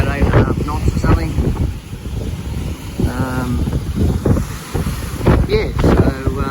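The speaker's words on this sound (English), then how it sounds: "trying to capture what it really is like sailing in these bumpy conditions" Sailboat running at about 8.5 knots in windy, bumpy swell, with wind buffeting the microphone and water rushing past the hull under steady close talk.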